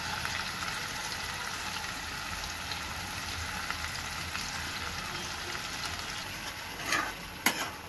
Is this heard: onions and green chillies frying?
yes